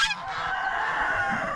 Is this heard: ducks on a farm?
yes